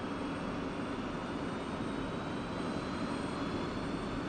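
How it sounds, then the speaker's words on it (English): F-16 Falcon jet engine idling with the canopy open in the DCS World flight simulator: a steady, even roaring whine that holds constant throughout, with no talking. "We're going to leave the canopy open. It may get a little loud, but this isn't a tutorial."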